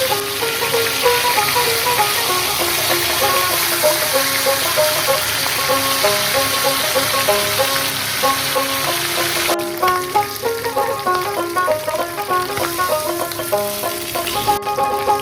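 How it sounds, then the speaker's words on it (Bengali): Hilsa fish heads frying in hot oil until browned, a steady, fairly loud sizzle and crackle that continues without pause and without voices. "মাছের মাথাগুলো বেশ লাল লাল করে ভাজা হয়ে গেছে"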